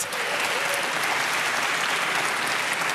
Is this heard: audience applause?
yes